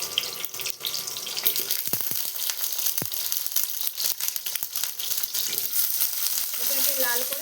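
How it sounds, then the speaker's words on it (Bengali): Onions fry in a pan with a little salt and some leftover water, a continuous close sizzle with occasional clicks and scrapes of stirring. "পেঁয়াজগুলো এইভাবে ভাজতে হবে।"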